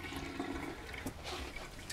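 Hot water runs from a camper sink faucet, a steady close splashing stream that continues without a break, with no talk.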